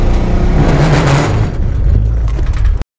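A pickup truck powers out of a lakeside spot in two-wheel drive, its mid-pitched engine revving hard and steady for nearly three seconds, loud and close, before cutting off abruptly.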